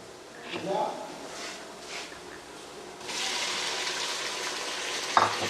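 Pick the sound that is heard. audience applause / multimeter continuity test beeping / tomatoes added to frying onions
tomatoes added to frying onions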